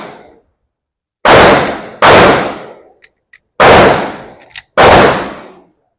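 Four loud, sharp gunshots from a Springfield Armory XD-S Mod.2 .45 caliber pistol with a red dot sight, fired at irregular intervals, each decaying quickly, with faint metallic clicks between them.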